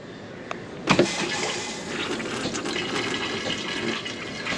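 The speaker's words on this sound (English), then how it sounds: "All right, guys, I'm about to flush the toilet." An RV toilet in a Class A motorhome flushes with sediment-laden water, starting with a sharp valve clunk and then a steady, loud rushing gush that continues to the end.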